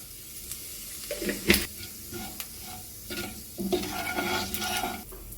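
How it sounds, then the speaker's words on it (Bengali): Whole cumin seeds sizzle in hot oil in a pan used for paneer. Irregular crackles and spoon scrapes rise and fall over a low background hiss for several seconds, heard up close with no speech. "তেলের মধ্যে দিয়ে দেবো আমি গোটা জিরে"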